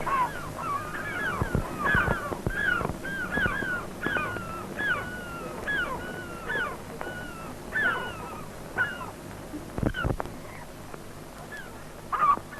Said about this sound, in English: The noise of these gulls is quite deafening at times